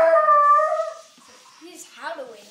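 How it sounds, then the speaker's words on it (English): A dog makes a strained, howl-like whimpering vocalisation as it tries to bark, a drawn-out tonal cry followed by a brief softer yelp, close and fairly loud with no talking. "Oh, he just barked. He was trying to bark."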